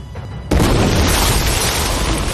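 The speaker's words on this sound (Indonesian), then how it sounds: "Setelah ledakan berlalu," A sudden loud explosion near a greenhouse bursts in after a quiet half second, then a dense, roaring rumble holds steady to the end with no voices.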